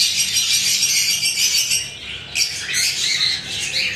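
Lutino cockatiels at a bird farm squawk and chirp in a constant shrill chorus, several birds calling over one another at close range, with a brief louder burst midway and no voices.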